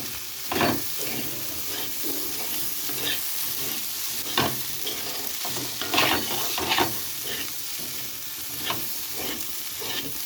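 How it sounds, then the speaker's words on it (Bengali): Boiled pasta being stir-fried in a pan: a steady sizzle runs throughout, broken by repeated louder scraping bursts as a spatula works through the noodles, with no voices. "তারপরে আমি এবার সিদ্ধ করা পাস্তাটাকে দিয়ে দেব।"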